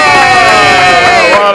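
Studio audience on a live Martinique television game show cheering loudly, a dense continuous roar of many voices shouting together up close, with no clear gaps.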